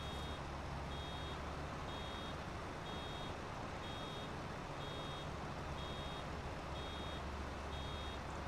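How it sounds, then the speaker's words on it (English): Vehicle reversing beeps in the farming video game Farming Simulator 25, evenly spaced beeps about every half second over a loud steady engine rumble, with no talking. "I'm gonna have to listen to the beeping for another minute."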